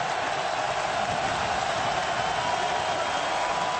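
Steady roar of a 74,000-strong college football stadium crowd at South Carolina versus Ole Miss in 2009, a dense continuous wash of noise holding level throughout without breaks.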